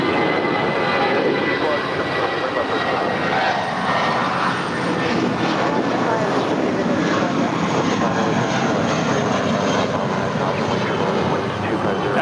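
An airliner takes off from runway 25 right at LAX, its engines giving a loud, sustained roar that stays close and constant throughout, with radio chatter or a voice faintly underneath.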